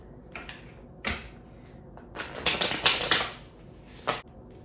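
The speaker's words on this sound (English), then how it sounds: "Let me pull a few other cards." Tarot cards being handled, with a few sharp card flicks and slaps followed by a brisk riffling shuffle burst and one more snap at the end, close and fairly quiet.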